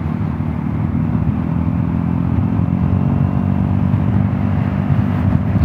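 A Vespa GTS 300 hpe scooter fitted with Tech pulley sliders and a Kübler speed wheel runs at top speed, its engine droning steadily and loud with strong low rumble and wind buffeting throughout.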